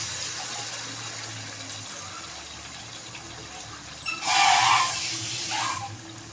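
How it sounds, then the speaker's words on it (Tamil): Water is poured into a liquid mixture in a home kitchen, a short loud gushing splash lasting about two seconds after a quieter stretch of faint background hum. "கொஞ்சம் தண்ணியும் சேர்க்கணும்."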